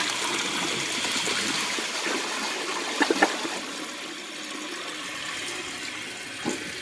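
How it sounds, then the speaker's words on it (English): A 2010 Vortens Vienna toilet flushing with the handle held down, a steady rushing wash of water that runs evenly for several seconds with a couple of brief clunks partway through and a short tail. "now that this is full, let's give it a flush."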